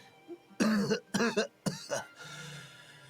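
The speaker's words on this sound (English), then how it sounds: "Vernon coughs twice and his face takes on an unhealthy tone." An old man coughs in the video game Tears of Themis: a few sharp, close coughs in quick succession that fade into a softer, raspy exhale.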